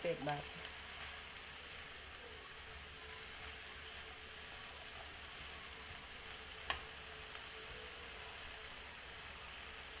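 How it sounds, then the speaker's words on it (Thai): Asparagus and pork stir-frying in a pan with a splash of water, a quiet steady hiss of sizzling with a few light utensil taps and one sharp clink, no talk. "วันนี้ผัดหน่อไม้ฝรั่งอย่างเดียวนี่แหละค่ะ"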